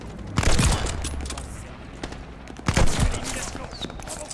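Gunfire in Call of Duty Vanguard multiplayer: two heavy bursts of shots a couple of seconds apart with some scattered quieter shots between, over a steady game background, and a player speaks French.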